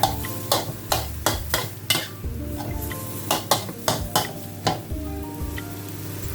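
Chinese kale for pad see ew stir-fried over high heat, steady sizzle punctuated by a rapid series of sharp metallic spatula scrapes and clanks against the pan, close and clear with no talking.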